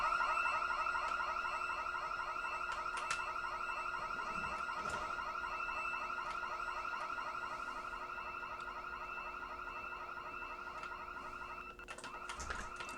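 A car alarm in the video game Project Zomboid wails in a continuous repeating warble, steady and moderately loud, with a few faint clicks and thumps near the end.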